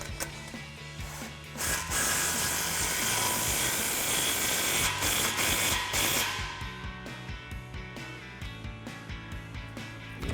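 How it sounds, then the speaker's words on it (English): Front exhaust clamp on a Toyota Tacoma's AWE dual exhaust muffler being tightened, a loud, close metallic ratcheting clatter running in steady bursts, then quicker separate clicks toward the end. "So we're gonna tighten our front clamp up first."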